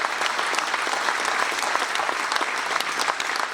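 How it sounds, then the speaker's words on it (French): Dense applause from an audience at a mayor's New Year greeting ceremony in Saint-Victoret, a steady close wash of many hands clapping without a break. "Je vous demande d'applaudir Martine."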